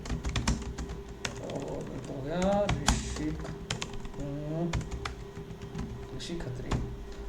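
Rapid keystrokes on a computer keyboard while typing text into Notepad on Windows 11, a steady close patter of key taps running throughout, with a voice speaking over parts of it.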